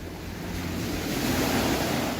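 Ocean waves wash onto a beach by a Hawaii house as a steady, loud surf roar with some wind rumble, and no one speaks.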